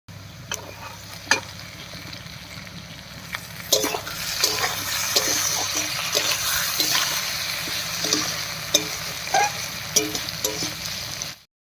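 Chopped tomatoes hit a pan of onion and potato, frying with a steady sizzle while a utensil scrapes and stirs in sharp clacks, the hiss swelling midway and staying close and moderately loud throughout.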